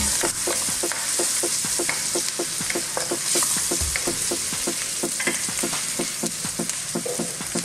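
Garlic and onion sauté in hot oil for sweet and sour chicken, giving a steady, dense sizzle with regular clicks and scrapes of stirring throughout.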